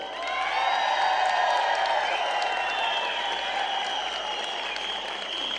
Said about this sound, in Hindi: तालियां बजानी है तो इस सम्मान के लिए और भारिल फैमिली के लिए बजाओ।